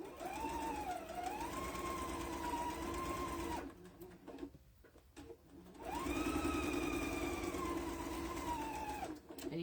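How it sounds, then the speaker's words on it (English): A sewing machine runs back stitches through a tote bag lining in two steady bursts separated by a brief pause, whirring loud and close with a high mechanical whine over the motor hum. "And you want a back stitch"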